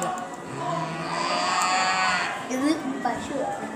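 A person imitates a cow's moo with one drawn-out, nasal lowing call in the middle, close to the mic, with other voices and room chatter around it.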